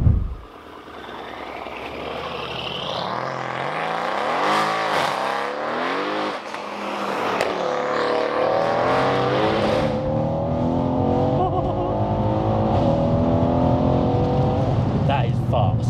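An 800BHP biturbo Mercedes C63 AMG engine fires up with a sharp start, then revs repeatedly, rising and falling in pitch before settling into a loud, steady, close rumble.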